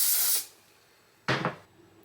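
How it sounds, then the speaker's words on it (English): Two short hisses from a hair spray can sprayed onto a head, the first about half a second long, then a brief pause and a second quicker spritz. "I'm gonna spray it on my head."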